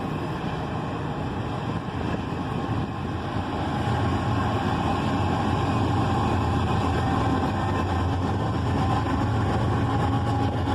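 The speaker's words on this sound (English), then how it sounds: "a Norfolk Southern train appears on the other track, trying to overtake the CSX train" A CSX intermodal train and a Norfolk Southern train pass on parallel tracks, a continuous rolling rumble of heavy freight cars that holds steady and grows slightly louder midway, with no voices.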